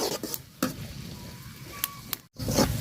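Onions fry in plenty of oil for chicken biryani, a steady sizzle with a few sharp clinks and scrapes of a spatula against the pot, close and moderately loud, no talking.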